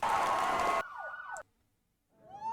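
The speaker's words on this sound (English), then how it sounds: "Are those police sirens?" A short burst of noise cuts to a wailing, rising and falling siren tone, then silence before another sweeping siren wail fades in.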